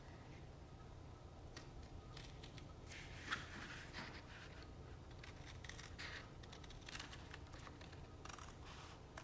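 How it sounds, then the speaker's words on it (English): Faint, irregular snips of scissors trimming wood on a box, quiet clicks scattered across a soft background hum with one slightly louder snip. "I'm just taking my scissors and I'm just clipping just a little bit off the top here"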